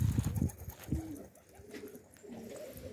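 A pigeon gives several deep, throaty coos close by, strongest at the start, followed by softer calls and faint chirps.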